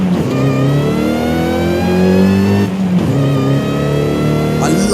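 A Toyota MR2 in Forza Horizon 5, heard from the cockpit view, revs with a loud, rising supercharger whine layered over the engine note, dipping briefly at a gear change before climbing again.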